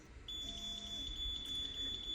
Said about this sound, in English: So now the alarm's going off after I've already had the water.